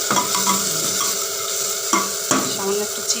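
Vegetables, rice and dal stirred together in a pot with salt and turmeric, a close continuous sizzle punctuated by several distinct spoon knocks and scrapes against the metal, no talking.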